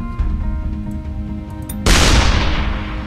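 In the video game ShellShock Live, after a low rumbling backdrop, a single heavy artillery blast booms out, loud and sudden, its roar fading over the following second.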